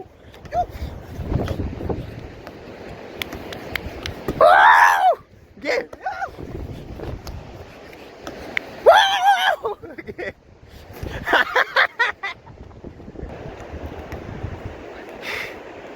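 Wind gusts buffet the microphone in bursts, with people talking and shouting over the rumbling outdoor noise.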